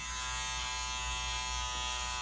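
An Andes cordless electric hair clipper running steadily, giving a constant close, even buzz with a strong harmonic whine and no pauses or talk.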